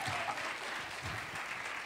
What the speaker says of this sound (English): Can we give them a hand clap?